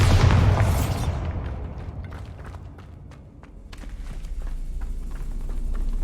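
A Bombarda spell exploding in Hogwarts Legacy, a loud booming blast at the start that rumbles and fades, followed by scattered debris clatter and a low swelling rumble.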